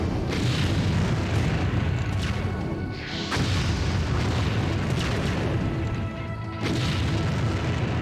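Dense, continuous booming battle din from anti-tank guns firing in the real-time strategy game Empire Earth, with loud overlapping blasts and heavy low rumble throughout, no voices.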